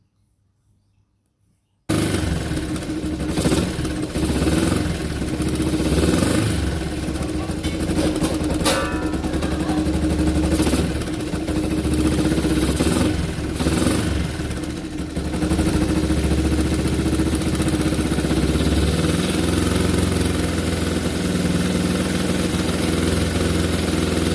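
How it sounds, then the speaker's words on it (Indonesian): A motorcycle engine starts after a short silence, then idles steadily with a loud, even mechanical clatter and rumble for about twenty seconds. "Oke, starternya mesinnya suaranya begini ya."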